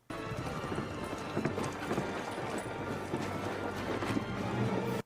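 Hooves of a horse pulling a carriage clip-clop steadily throughout in a running rhythm, with a dense, busy background of motion and noise from an ancient battle film scene.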